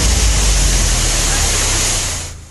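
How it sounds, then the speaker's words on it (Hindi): Floodwater rushes fast through a residential neighbourhood in Pune during monsoon rains, a loud, dense, steady roar of torrent close by that holds level for about two seconds before easing off. "पुणे में ही रिहायशी बस्ती, जिसमें पानी इतनी रफ्तार से बह रहा है"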